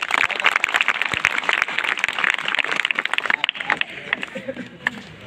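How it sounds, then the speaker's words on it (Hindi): Students at a school gathering in Fazilnagar applaud loudly, dense clapping sustained for several seconds before thinning out toward the end, with a voice faintly under it. "जोरदार तालियां के लिए।"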